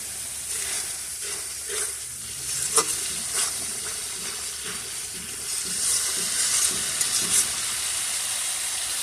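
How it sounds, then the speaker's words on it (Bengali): Spices sizzle in hot oil in a pan as they are sautéed for a rohu fish curry with taro, with a steady frying crackle broken by repeated scrapes of stirring. "ভালো করে কষিয়ে নিব যতক্ষণ কাঁচা ফ্লেভার বেরোবে ততক্ষণ ভালো করে কষিয়ে নিবি"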